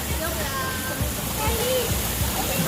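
Water splashes and rushes continuously at an ocean park, a broad steady wash with scattered splats, while people talk over it.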